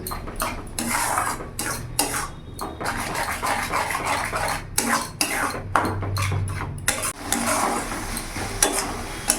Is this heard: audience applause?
no